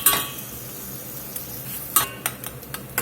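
Spoon stirring jalapeno cheese sauce into caramelized beef in a hot pan, a soft sizzle underneath with a few sharp metallic scrapes and clinks against the pan near the end.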